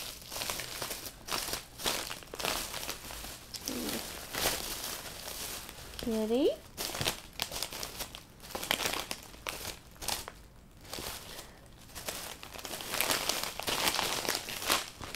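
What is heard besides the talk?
plastic sandwich bags rustling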